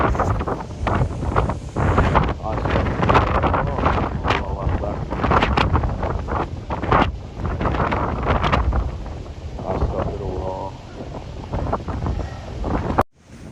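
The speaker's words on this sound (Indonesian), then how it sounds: "Kita lihat ombak begitu besar dan kuat naik ke dermaga." Strong wind buffets the microphone in extreme weather at Merak harbour on the Sunda Strait, with heavy sea waves surging up onto the ferry pier; loud, continuous gusting roar and wash throughout, cutting off abruptly at the end.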